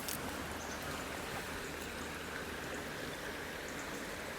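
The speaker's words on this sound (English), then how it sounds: "there's quite a bit of flow to the river here" A fast-flowing river used for winter grayling fly fishing rushes steadily in a soft, even hiss with no voices, sounding faint and distant.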